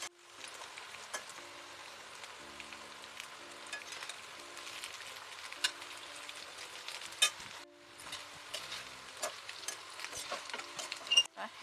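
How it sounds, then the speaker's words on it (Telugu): Meal maker soy chunks frying in a pan for vegetable biryani, a steady close sizzle with crackling pops, a brief pause, then stirring and sizzling again. "ఈ పచ్చివాసన పోయేదాకా వేయించుకోవాలన్నమాట."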